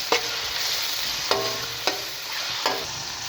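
Small pieces of boneless chicken sizzle steadily in a pan, with a few sharp spoon clinks against the metal as the meat is stirred, close and moderately quiet with no talking.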